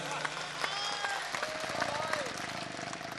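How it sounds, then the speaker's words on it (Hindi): An audience claps at a humorous Hindi poetry recital, a kavi sammelan; a burst of scattered applause and crowd noise runs under a voice speaking over the hall. "एक बार जोरदार तालियां उठ जाएं बस।"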